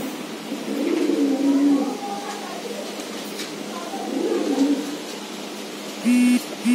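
Giribaz pigeons coo in repeated low, throaty phrases at moderate distance, with a few brief higher chirps and steady background noise around them.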